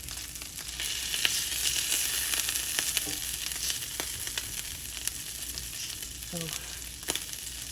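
Food sizzles and fries steadily in a pan for lunch, a dense continuous crackle close by with a few sharp pops, and a brief spoken word.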